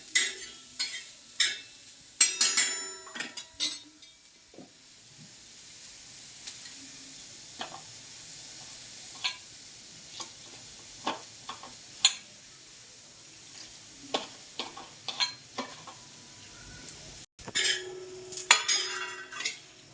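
Onion roasting in a pan, stirred with a utensil: scattered scrapes and clinks against the pan over a light, low sizzle, close by, with a brief gap near the end before the stirring resumes.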